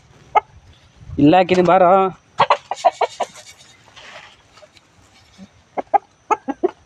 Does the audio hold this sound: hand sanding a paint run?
no